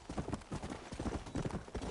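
The Warhorse from the video game Red Dead Redemption Undead Nightmare gallops with rapid, loud, rhythmic hoofbeats that continue throughout without pause, close and prominent, with no voices.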